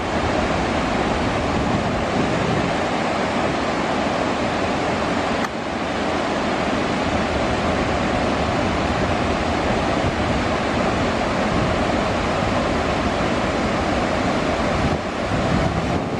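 Loud, continuous roar of water rushing from a dam outlet on the Brazos River, a steady broadband torrent with no pauses and no voices.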